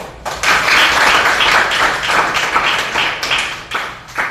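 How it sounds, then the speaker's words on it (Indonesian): Close, loud clapping from a group, a dense burst of applause that holds steady for about four seconds before thinning out. "Tepuk tangan."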